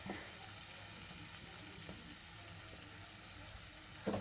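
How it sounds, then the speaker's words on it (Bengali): Small chicken pieces coated in ginger-garlic paste, turmeric and chili powder fry in a pan, giving a steady, even sizzle close by that swells briefly near the end. "এর আগে আমি একটু চিকেন ভেজে নিচ্ছি"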